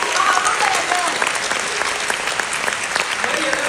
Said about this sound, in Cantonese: 我希望可以借你嘅掌聲